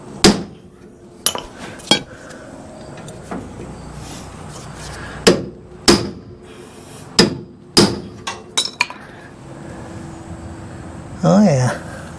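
A hammer pounds a steel frame rail on a 1966 Ford Ranchero, about a dozen sharp metallic blows in irregular bursts, some in quick pairs, close and loud, with a voice speaking briefly near the end.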